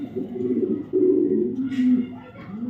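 A fancy pigeon at a pigeon seller's coos in low, throaty rolling phrases, close by, with a brief higher rustle partway through.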